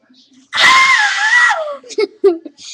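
A person imitates a scream with a single loud, sustained, wavering shriek lasting about a second, followed by brief laughter and chatter.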